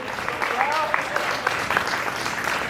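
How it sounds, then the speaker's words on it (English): Applause from a live comedy audience at Schulz Brau, a steady wash of many hands clapping close by with scattered louder claps, continuing for a few seconds with a voice faintly heard over it. "Let's give another huge round of applause for Schulz Brau for having us out tonight."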